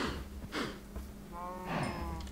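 A Minecraft cow moos in short, nasal bursts, several calls close together, loud and close with no talk over them.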